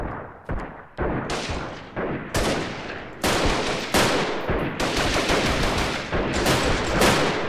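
Rapid bursts of gunfire from a shooter video game with a pistol in use, loud sharp cracks firing in quick irregular succession and overlapping, with no talking.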